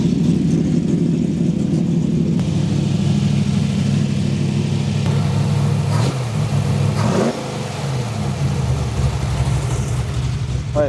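A 1965 Ford Mustang fastback's old carbureted V8 runs loud and close, holding a deep rumbling idle with a couple of throttle blips rising and falling near the middle.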